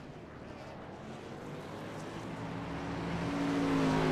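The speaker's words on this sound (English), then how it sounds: "pace car just took off, so now these guys are getting ready to go" A pace car engine in a racing video game, set at Indianapolis Motor Speedway in a league stock car race, rises steadily in pitch and loudness as it pulls away, a continuous droning hum with no talk.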